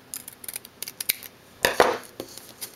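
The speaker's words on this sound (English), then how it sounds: "And then I take my scissors and I cut this circle in half." Scissors snipping through a punched paper circle to cut it in half during a crafting project, a run of short crisp clicks and snips followed by one louder, longer cutting burst, close and alone.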